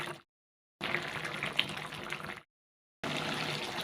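Water pouring from a tap or jug into a potato and pointed gourd curry, a steady splashing gush in two bursts with a short gap, fairly close, with no voices.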